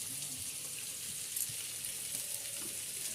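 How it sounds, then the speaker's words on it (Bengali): Fish curry cooks in a pot over a clay wood-fire stove, giving a soft, steady bubbling hiss with faint low crackles throughout. "এখন এই যে উনুনের জালে হচ্ছে মাছের ঝোল"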